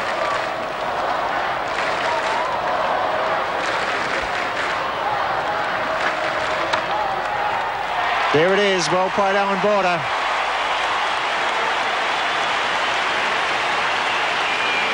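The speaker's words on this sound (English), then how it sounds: "Enormous roar around the Adelaide Oval" Cricket crowd at the Adelaide Oval roaring and applauding a boundary that brings up a batsman's hundred, a broad, sustained wash of cheering and clapping with a commentator talking over it throughout.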